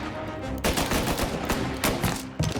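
Rapid gunfire from a shootout in the Mafia video game: several loud, sharp shots and bursts crack out back to back in an irregular rhythm, close and dominant, with no voices.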